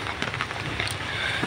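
Rain falls in a steady, even patter on a cattle farm, a soft continuous hiss with occasional slightly louder drops.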